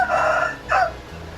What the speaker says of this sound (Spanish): los gallos que cantan siempre